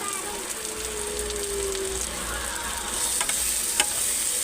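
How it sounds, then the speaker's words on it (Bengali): Masala for prawn malai curry fries in a pan while being stirred, a dense steady sizzle with soft scraping and a couple of sharp spatula clicks near the end, close and fairly loud. "দেখো গাইস মশলাটা ভালো করে নেড়ে নেড়ে ভেজে নেবো"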